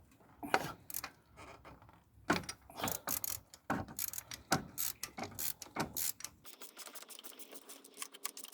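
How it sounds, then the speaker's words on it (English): A wrench works the automatic timing belt tensioner bolt on a Rover 75 K-series engine: close, sharp ratcheting clicks in irregular bursts, then a quieter stretch near the end. "we now should be able to loosen the automatic tensioner, giving a slack on the belt"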